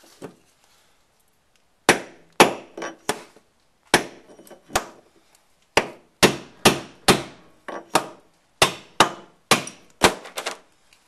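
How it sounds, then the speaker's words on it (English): A metal rod is hammered to tap out the top bearing of a Whirlpool Cabrio washer, producing sharp, loud, ringing strikes at close range, first sparse and then in quicker clusters, with no talk. "I'm using this rod. I'm going to tap out the top bearing."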